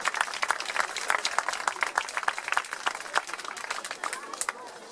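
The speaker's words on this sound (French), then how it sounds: "On les applaudit bien fort." Brisk applause from a crowd at a Sainte Rosalie horse blessing festival in La Fare-les-Oliviers, many hands clapping in a dense patter that tapers slightly toward the end, with some voices mixed in.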